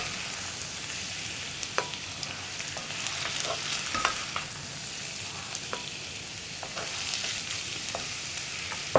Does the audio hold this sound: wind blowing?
no